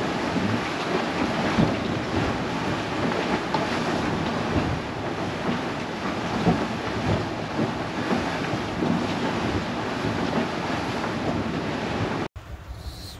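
Rough seas and strong wind aboard a Leopard 45 sailing catamaran in the Gulf Stream off Cape Hatteras, a loud continuous roar of waves, rushing water and wind buffeting the microphone, steady throughout before cutting off abruptly near the end.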